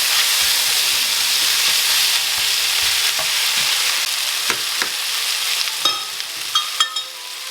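Leftover turkey frying in a pan with peas, corn, chunks of potato and Brussels sprouts: a constant close sizzle and hiss, joined near the end by a few light clinks of a utensil against the pan.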